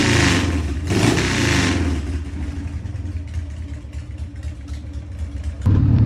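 A 1995 Harley-Davidson Sportster 1200 with baffle-free Screaming Eagle drag pipes, loud and close: a heavy rev winds down into a rumbling idle, then the throttle snaps open again at the end.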